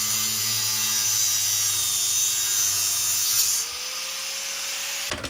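A power tool cuts down a long bolt on a 1976 BMW 2002, a continuous harsh grinding whine that shifts pitch partway through and ends with a brief clatter.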